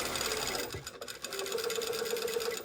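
Sewing machine stitching a dress pocket seam, a steady close mechanical whir with rapid needle ticks running almost the whole time, briefly pausing before resuming.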